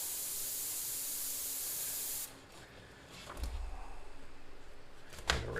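An airbrush sprays paint in a steady, close hiss that cuts off, then returns as shorter bursts with some low airy rumble.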